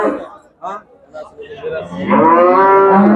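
A first-calf cow with her bull calf lowing loudly at a livestock market in Shahrisabz, a long drawn-out moo rising at the end after a stretch of nearby talking.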